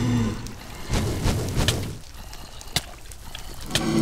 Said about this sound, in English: I move the water forward with my bucket